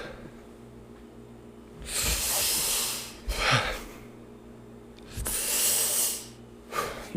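A voice imitates laboured crucifixion breathing: two long, heavy, hissing breaths with a short snorting catch between them, close and loud, ending in a brief rasping gasp.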